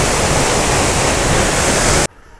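Sulthana waterfall in Kerala, water pouring down in a loud, dense, continuous roar heard up close, cutting off abruptly near the end.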